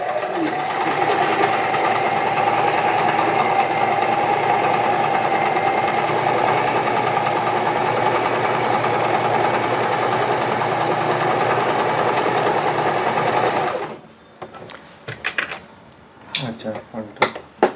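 An Usha electric sewing machine stitching a zigzag seam runs in a loud, continuous rapid whir and clatter for about fourteen seconds, then stops, followed by scattered clicks and handling sounds.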